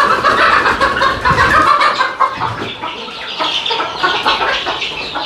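A flock of native country chickens, young birds up to a few months old, clucks and chatters continuously on a farm, loud and close, with overlapping calls filling the air.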